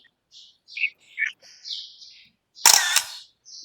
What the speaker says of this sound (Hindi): फोटो खींच रहा हूं ना मैं।